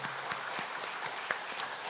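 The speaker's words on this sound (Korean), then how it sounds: "하나님께 영광의 박수 올려드립니다." A church congregation applauds during a special evening service, a short burst of crowd clapping with a few sharper individual claps standing out.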